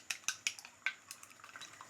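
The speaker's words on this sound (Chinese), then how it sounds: "然后再搅拌。" Egg soup mixture with salt whisked in a bowl, a utensil clicking sharply against the sides in a quick run of four or five taps, then lighter, softer scraping strokes, close and fairly quiet.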